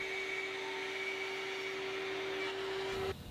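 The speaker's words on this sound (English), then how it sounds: "I think my vacuum's full. It's not really collecting too much dust here." A workshop dust-collection vacuum runs steadily with a loud, even whine and a constant hum in a woodworking shop, then cuts off sharply near the end, with no talk.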